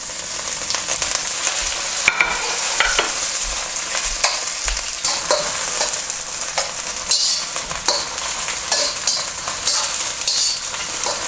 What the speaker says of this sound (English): Next, put the mushrooms in.